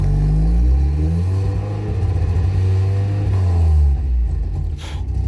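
A Mazda Miata engine running very rich revs loud and close, its pitch climbing and falling in steady sweeps, then dips briefly near the end before rising again.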